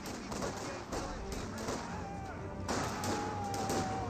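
Heavy .50 caliber machine gun fire in the Company of Heroes 2 strategy game, suppressing Volksgrenadier infantry, amid dense continuous battle noise with rattling bursts and thuds throughout; a voice talks faintly underneath.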